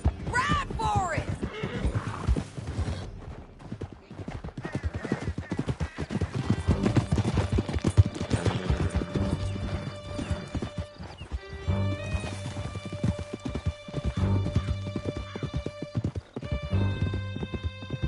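Horses gallop in Red Dead Redemption 2, with fast, loud clip-clopping hooves, several whinnies and neighs, and scattered faint gunfire, while voices talk over the ride.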